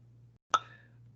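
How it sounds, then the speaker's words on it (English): One sharp metronome click, marking a beat in an elementary solfege lesson, sounds with a brief ringing tone over a faint, steady low hum in an otherwise quiet room. "the clicks that you're hearing from a metronome are each for 1 beat"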